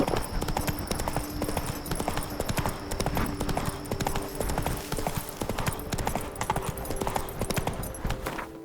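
Hooves of the horse Roach clip-clopping in a quick, steady trot in the video game The Witcher 3, loud and continuous with a faint background hum.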